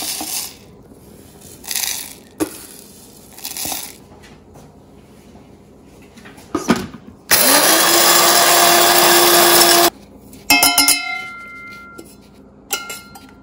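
An electric spice grinder crushing whole cloves, cumin, cardamom and coriander seeds: a few short rattling pulses, then a loud sustained whirring grind of about three seconds, followed by clattering as the jar is handled.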